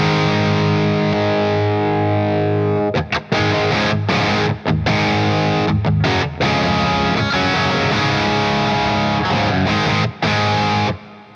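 Electric guitar played through a Bogner mini amp with reverb and delay, loud distorted chords and riffs ringing with effects, with brief choppy stops between strums and no talk.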